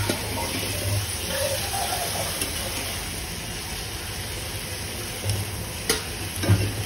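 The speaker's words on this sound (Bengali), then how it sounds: "এবার আমি কিছুক্ষণ নাড়াচাড়া করে নেব খুন্তি দিয়ে" Pointed gourd and hilsa frying in a pan while being turned with a spatula, a steady soft sizzle with a few light scraping knocks of the spatula toward the end.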